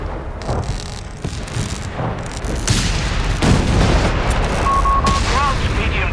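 Heavy 17-pounder anti-tank guns booming in a Company of Heroes 3 4v4 battle, a dense barrage of loud gunfire and blasts layered with distant shots and rumble throughout.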